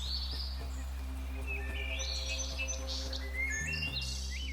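A flock of finches in the Australian outdoors chirps and twitters in scattered high calls, fairly faint over a steady low hum and insect-like background.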